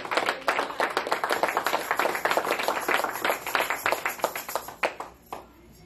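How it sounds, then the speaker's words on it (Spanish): A church audience claps loudly and rapidly, many individual hand claps standing out in a brisk rhythm before trailing off near the end. "Un aplauso más fuerte para ti."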